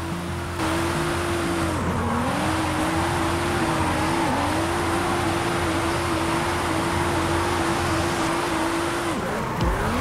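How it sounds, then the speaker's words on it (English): A Nissan 370Z drifting around a large circle in the racing game Forza Horizon 5, its engine holding a steady high drone with tire squeal beneath it and small pitch dips as the throttle shifts, loud and continuous. "let's drift this car on Big Circle, and let's see how well it can maintain its line"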